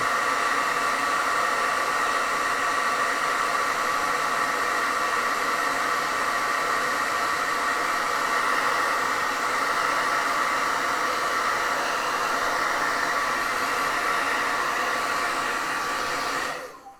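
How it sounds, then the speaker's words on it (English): A hair dryer blows loudly and steadily for a long stretch, a constant whooshing roar that cuts off abruptly at the end. "I'm gonna go ahead and hit it with my hair dryer"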